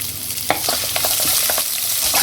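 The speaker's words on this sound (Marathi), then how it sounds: "छान असं परतवून घ्यायचं कांद्याला." Sliced onion and curry leaves sauté in a pan with a steady bright sizzle, broken by several scraping stirs of the spatula, close and loud with no talking.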